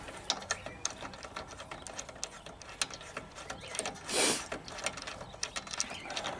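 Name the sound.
wrench loosening spark plug on Briggs and Stratton mower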